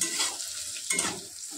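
Bitter gourd and potato stir-fry in a pan with a bright, steady sizzle and two stirring surges, close and fairly quiet, with no voices.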